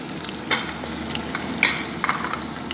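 Ingredients for a Sri Lankan dry fish kulambu sizzle and fry steadily in a pan, close and loud, with a few sharp clicks from stirring; no speech.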